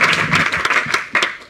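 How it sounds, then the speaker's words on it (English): Applause from an audience at a startup meetup in Paris, a dense burst of clapping lasting the whole moment with a few sharper claps standing out, fairly loud and close. "Let's get a big round of applause."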